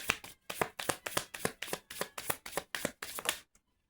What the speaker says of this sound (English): I guess I'm shuffling them.